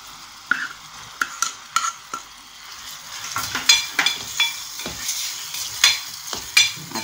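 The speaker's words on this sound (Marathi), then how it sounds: "आता मी ह्या बिया टाकते." Seeds crackle and sizzle in hot oil for an okra curry, with sharp spoon scrapes and stirring clinks against the pan, close and intermittent, the frying growing busier toward the end.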